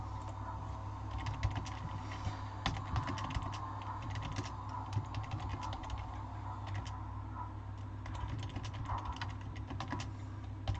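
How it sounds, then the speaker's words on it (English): Steady typing on a computer keyboard, a continuous run of light, quick key clicks with an irregular rhythm, fairly close and moderately quiet over a low background hum, with no voices. "Everyone can see what I'm freaking typing on there."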